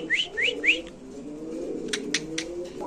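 Lahori pigeons give a few short rising whistled calls, then a soft low coo and several brief sharp chirps, close by and fairly quiet.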